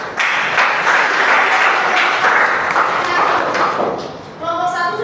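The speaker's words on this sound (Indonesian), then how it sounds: "Tepuk tangan kelompok 2." Classroom students applaud a group, a dense, loud burst of clapping that holds steady for several seconds before tapering off.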